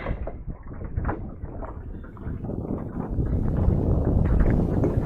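Steady wind roars and buffets across the microphone while fishing for perch, a broad low rumble that swells slightly louder toward the end, with water-like splashing underneath.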